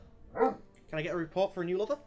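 A pet dog barks a few times at moderate distance, with short sharp bursts mixed into a person speaking over it indoors.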